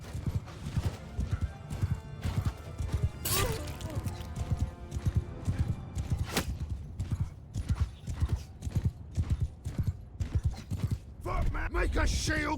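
Horses gallop in a medieval battle in the video game Mount & Blade II: Bannerlord, hooves clip-clopping in a steady rapid rhythm with an occasional whinny, amid creaking mechanisms and shouted commands from soldiers.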